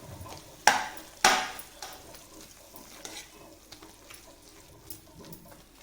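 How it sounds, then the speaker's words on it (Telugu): Ridge gourd with turmeric and tamarind stirred in a pan over heat: two sharp scrapes of a spoon against the pan, then softer intermittent stirring taps over a faint, steady sizzle, close and quiet. "తర్వాత 1 స్పూన్ పసుపు, కొంచెం చింతపండు వేసి బాగా కలుపుకోవాలి"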